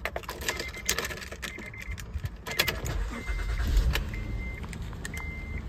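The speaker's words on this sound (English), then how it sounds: "But let's start it up." A Honda Odyssey minivan is started after a brief jingle of keys, its engine catching and settling into a low idle with faint electronic chimes over the interior.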